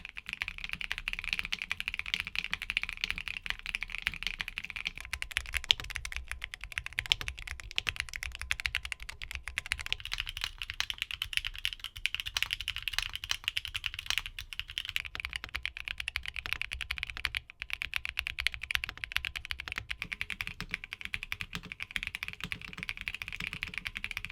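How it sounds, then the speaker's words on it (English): Continuous typing on a mechanical keyboard, steady streams of crisp key clicks close by, the character shifting every few seconds as different smooth switches are tested back to back. "here are back-to-back sound tests for all the switches we talked about today."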